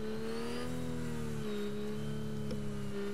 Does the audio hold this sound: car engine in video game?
yes